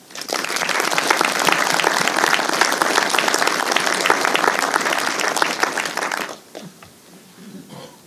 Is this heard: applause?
yes